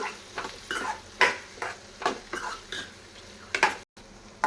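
Ivy gourd pieces stirred in a pan with a spoon, producing repeated scraping strokes and light metallic clinks in an uneven rhythm, close and fairly loud, with a faint sizzle underneath.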